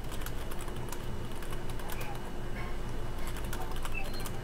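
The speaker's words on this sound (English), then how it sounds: "I'll type in here." Rapid, continuous clatter of fingers typing on a computer keyboard, close and steady over a low background hum, with no clear speech.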